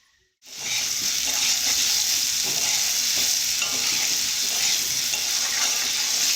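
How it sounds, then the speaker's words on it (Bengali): Curry sautéing in ghee while being stirred, a steady close sizzle with scraping strokes that starts abruptly after a brief silence and continues evenly, no talking. "এভাবে দু মিনিটের জন্য কষে নেব যাতে তরকারিটা খুব সুস্বাদু হয়"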